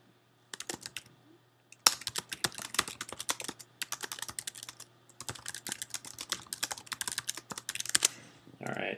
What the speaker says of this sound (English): And then you can type another message here.